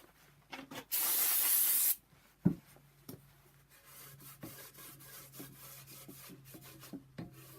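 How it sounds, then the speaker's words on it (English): Brake cleaner sprays from an aerosol can in one steady hiss lasting about a second onto BMW 135i N54 oil pan parts during an engine rebuild. Sharp knocks and scraping rubs follow close up. "cleaning it thoroughly with brake cleaner"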